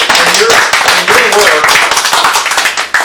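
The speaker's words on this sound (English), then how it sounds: "Round of applause" A round of applause at a board meeting, steady clapping from a small audience mixed with brief voices throughout.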